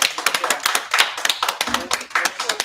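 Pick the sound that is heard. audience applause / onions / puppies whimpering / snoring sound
audience applause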